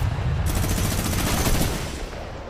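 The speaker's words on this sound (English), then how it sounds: "Shots through. Minigun, a quick swap there, picks the shotty back up." Rapid, continuous minigun fire in the Fortnite video game, a dense unbroken roar of shots that stays loud and close throughout with no talk over it.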